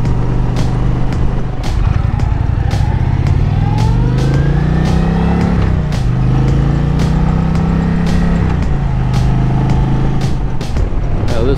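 A 2023 Indian Challenger motorcycle rides along the road, its engine droning loudly and steadily up close, the pitch rising and falling as the rider works the throttle, with wind rushing throughout.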